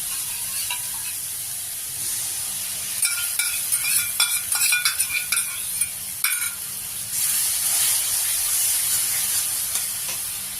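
Yogurt hits hot oil in a pan for a pointed gourd chapor ghonto, giving a steady sizzle with scraping stir strokes and clinks of a spoon in the middle, close and fairly loud.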